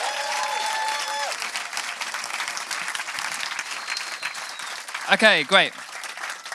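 A conference audience applauds the speakers at a climate session, a steady patter of clapping that fades as someone briefly speaks over it near the end.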